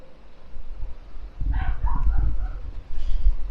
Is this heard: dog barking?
yes